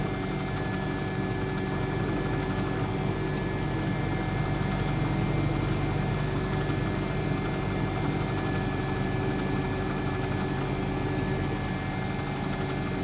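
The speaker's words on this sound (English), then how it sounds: "we'll start with the right engine first" Right engine of an MD-80 airliner spooling up in the X-Plane 10 flight simulator, a steady, loud droning hum with constant tonal whine layered over broadband rumble, unbroken throughout.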